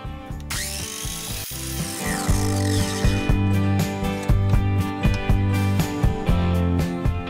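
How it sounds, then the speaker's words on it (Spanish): A miter saw cuts through two pieces of wood for a corner joint, a loud sustained power-tool whine with a rising spin-up, then steady cutting with rhythmic bursts, close and alone. "solo nos resta cortar los dos trozos de madera que en suma conformarán el ángulo"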